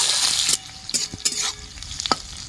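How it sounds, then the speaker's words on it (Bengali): Chopped onions sizzle and crackle in hot oil, frying until reddish for a Bangladeshi pumpkin and bitter gourd dish, a hiss that fades after a moment, with scattered clinks and scrapes of stirring. "পেঁয়াজটা একটু লাল করে ভেজে নেব"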